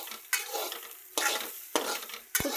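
Sweet corn roasting in a pan, with a few sharp scraping stir strokes at intervals over a faint background sizzle, close and fairly quiet, no voices.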